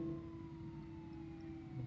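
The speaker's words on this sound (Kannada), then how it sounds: "Police siren ಕೇಳ್ತಿದೆ." A police siren in the Bus Simulator Indonesia video game drones faintly in the distance, a steady wailing tone beneath low engine rumble, with no talk.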